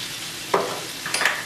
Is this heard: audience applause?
no